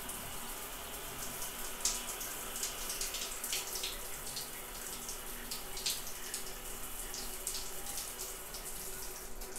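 Hot water runs from a tap through a thermostatic shut-off valve in a steady, hissing splash, with a few small clicks and drips, moderately quiet and continuous.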